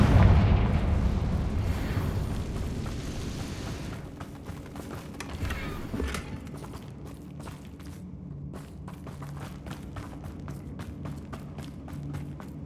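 In Hogwarts Legacy, a Confringo spell explosion in a mine full of Ranrock's loyalists erupts as a loud booming blast at the start, then fades into rumbling debris and a string of sharp, crackling pops.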